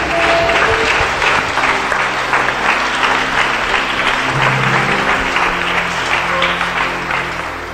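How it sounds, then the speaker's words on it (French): A church congregation at a Sunday service claps loudly and continuously in a dense, sustained burst of applause from many hands, with crowd noise underneath and no clear speech. "Acclame bien."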